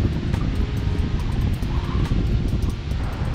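Strong wind in the Catskill Mountains roars steadily against the microphone near a waterfall, a loud continuous low rumble with faint gusty rises and no talk.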